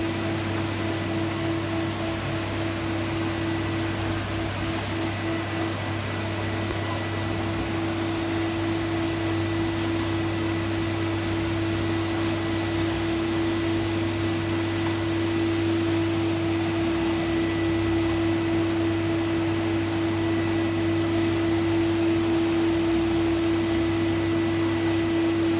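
A Rotovac 360i carpet cleaning machine works on office carpet tiles, its steady motor drone and suction roar running continuously through the hose with a strong constant hum and no pauses.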